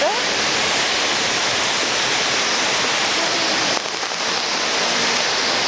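Heavy rain pours steadily onto a street in Anapa, a dense even hiss that fills the whole stretch with only a brief dip near the end.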